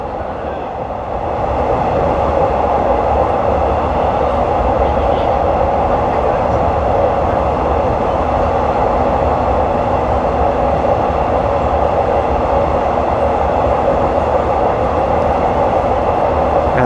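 A long-distance train runs steadily on the line from Don Mueang toward Krung Thep Aphiwat, a continuous close rumble of wheels and carriage noise that stays level throughout.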